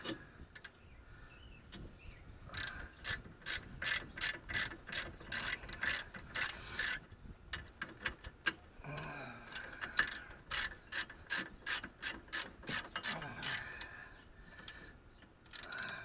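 A ratchet tightens front brake bolts in quick bursts of rapid clicking, pausing briefly between strokes, close and fairly quiet.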